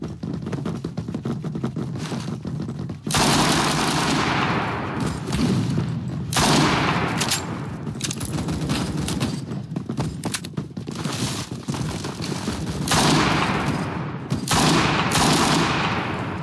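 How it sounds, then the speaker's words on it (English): Shotgun blasts from the video game Phantom Forces, heavy repeated shots with sharp onsets separated by short gaps, loud and close with little talk. "I still like this shotgun."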